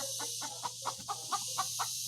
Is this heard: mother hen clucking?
yes